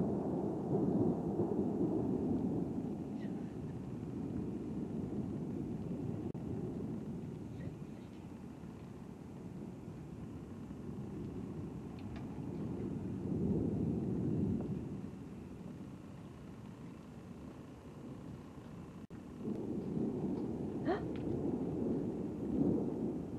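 Rolling thunder during a summer lightning storm, a heavy low rumble that swells and fades in long waves across the whole stretch, with a faint patter that may be early raindrops and no talking.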